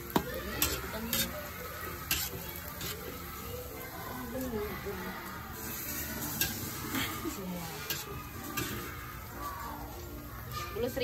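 Street food fries in darkened cooking oil, a steady crackling sizzle with stirring clinks, heard close while people talk over it.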